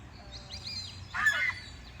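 Geese honk nearby in San Diego, a few scattered calls and then a louder burst of overlapping honks, over faint background rumble.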